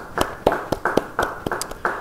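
Church congregation members clap for God during a Bible study sermon, giving about nine sharp, distinct claps in an uneven rhythm that sound close and sparse, with no talking.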